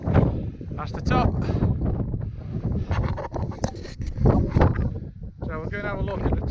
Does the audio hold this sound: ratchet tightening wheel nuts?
no